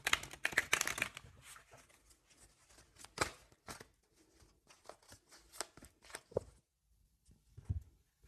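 Tarot cards being shuffled for another draw, a quick burst of riffling and flicking up close at the start, then sparser soft card slaps and slides against a quiet room, with no talking.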